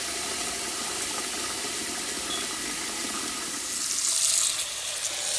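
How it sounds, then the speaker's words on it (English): Water running steadily from a tap into a pot for boiling saltfish, a continuous hissing splash that swells slightly near the end. "Putting some water in here."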